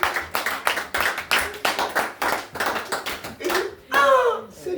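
A congregation claps along in rhythmic bursts during a praise and worship service in church. The claps are close and steady, and a voice rises briefly near the end.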